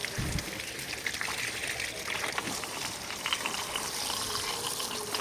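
Water splashes and trickles steadily as garden plants are watered, a soft continuous gushing close by with no voices over it.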